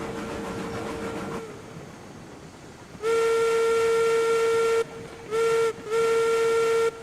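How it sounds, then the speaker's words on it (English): Steam locomotive whistle in a railroad video game: after a fainter tone and rumble, a loud, steady pitched blast sounds, then two more blasts separated by short breaks. "You can hear her horn at least."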